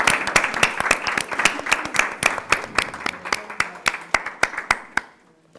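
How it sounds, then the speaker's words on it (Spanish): Audience at a web presentation event applauding three presenters, Julio, Itaiza and Antonio; loud, close, sharp individual claps in a brisk rhythm for about five seconds, thinning out before fading to silence. "muchas gracias Julio, muchas gracias Itaiza, muchas gracias Antonio y les damos un aplauso."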